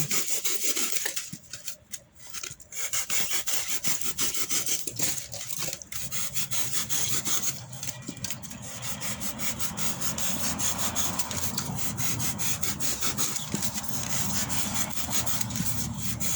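A tool scrapes and rasps along the carved edge of a nine-tier baisri frame, giving continuous repeated strokes that are close and fairly loud, with brief pauses between passes and no speech.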